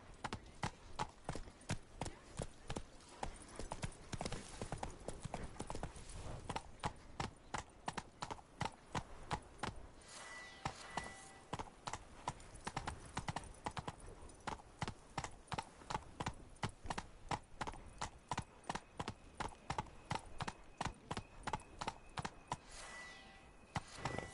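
Roach the horse's hooves clip-clop in a steady, even trotting rhythm in The Witcher video game, continuous and close throughout, with a brief pause near the middle.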